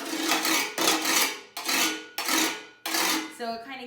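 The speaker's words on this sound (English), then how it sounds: "So it kind of gives it that scraping sound." A bucket scraped as a percussion instrument gives five rasping strokes in a steady rhythm, each swelling then cutting off, close and fairly loud, ending with a brief ringing knock.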